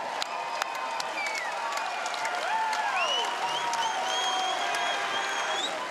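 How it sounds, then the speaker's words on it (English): Sustained applause and cheering from a crowd for two kickboxers at the end of a 62 kg bout, dense steady clapping with scattered whistles rising over the noise throughout. "how about a round of applause for these two fighters?"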